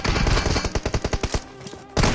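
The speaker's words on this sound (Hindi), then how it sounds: "वो वहां पर फायर कर रहा था।" Rapid bursts of gunfire in the PUBG Mobile game during a team deathmatch, loud and close, firing in a quick rhythmic string of shots that stops and then resumes with a heavy burst at the end.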